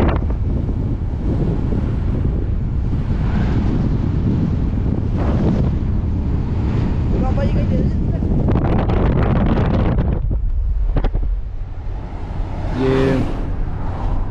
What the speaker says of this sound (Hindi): हवा बड़ी तेज़ है